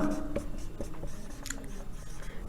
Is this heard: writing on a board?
yes